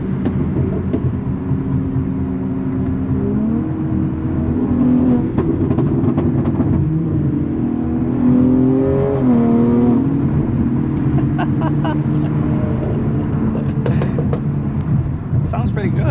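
Infiniti G37 engine revving nearby, rising and falling engine tones over a steady road rumble, with a voice talking intermittently over the car noise.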